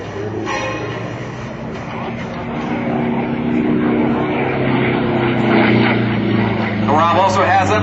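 A Pitts Model 12 aerobatic biplane flown by Rob Holland at the 2007 Wheels and Wings Airshow, its engine droning steadily and loudly throughout with rising and falling pitch, while an announcer talks over it.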